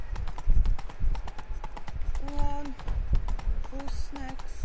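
Roach the horse galloping in The Witcher 3 video game: quick, continuous hoofbeats drumming throughout, with short voice-like tones rising over the gallop.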